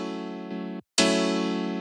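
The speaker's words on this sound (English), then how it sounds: "This is the classic 90s house piano sound." A classic 90s house piano sample plays two sustained chord stabs in an old-school house track, the second hitting brighter and louder after a brief silent gap.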